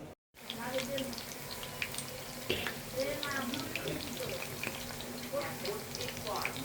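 Kofta kebabs frying in hot oil, a continuous close hiss and crackle of sizzling oil with small pops, steady after a brief silence at the start.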